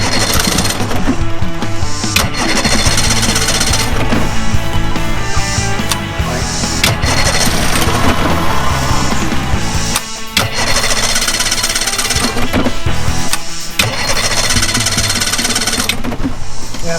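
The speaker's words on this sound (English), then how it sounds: "something's not going right with the carburetor, so I'm going to adjust that linkage to see if I can get this to run" A 1959 Johnson Super Seahorse 35hp outboard motor with a carburetor problem runs roughly and loudly while it tries to start, a dense mechanical clatter that carries on almost the whole time with a few short dips.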